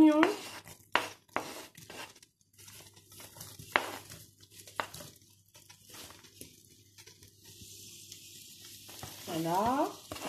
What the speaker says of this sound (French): voilà, on verse les poireaux et l'ail. On mélange bien, on saisit le tout.